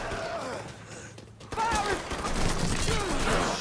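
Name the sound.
gunfire in the video game Mafia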